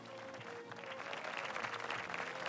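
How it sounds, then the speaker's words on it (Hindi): A studio audience on a Ramadan quiz show applauds after team scores are read, steady clapping building slightly over a low hum, fairly faint and continuous throughout. "तालियां माशाल्लाह।"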